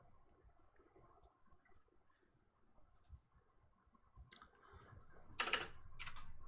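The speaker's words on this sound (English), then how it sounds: "Mechanical keyboards" Mechanical keyboard typing in a quiet room during an online tabletop game session, light scattered clicks that build into a loud, close burst of clattering keystrokes near the end.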